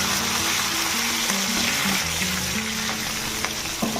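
Cumin seeds and green chilli sizzle steadily in hot oil in a pan, a continuous close frying hiss with faint stirring, no voices.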